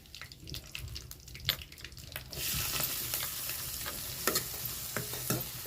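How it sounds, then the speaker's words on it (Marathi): Onion is sautéed in a pan with fried cumin and mustard seeds, opening with spoon scrapes and taps, then jumping into a loud steady sizzle as the onion hits the oil, with stirring strokes continuing over it and no talk. "कांदा चांगला परतून घेते"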